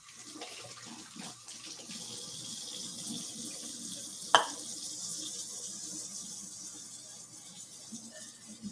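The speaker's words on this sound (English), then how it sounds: "I'm gonna wash my hands" Running water from a kitchen tap while hands are washed under it, a steady hiss of flow with one brief clink partway through and no voices.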